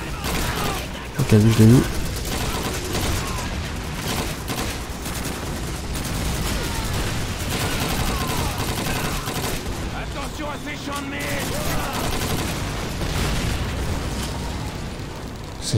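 Dense gunfire and explosions crackle all around in a Call of Duty 2 battle, a steady barrage of shots and booms with a loud burst early on, while someone talks over the fighting.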